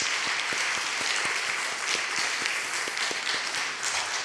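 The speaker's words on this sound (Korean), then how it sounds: "다시 한번 크게 박수로 축복하겠습니다" Steady applause fills a church during an afternoon praise service after a choir's performance, with individual claps audible through a dense, even wash of many hands and no pause.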